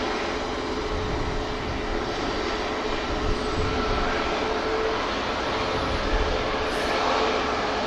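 A SunExpress airliner at Manchester Airport taxis and heads out to depart, a steady distant jet-engine roar washing over broadband outdoor noise at a constant, moderate level.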